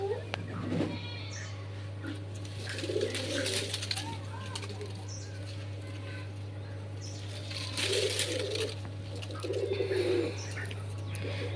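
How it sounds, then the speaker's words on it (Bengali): Parakeets feeding on night jasmine fruit in a village yard give short bursts of chirps and calls at moderate distance, over a steady low hum, with people talking nearby. "টিয়া পাখিগুলো খুব সুন্দর খাচ্ছে"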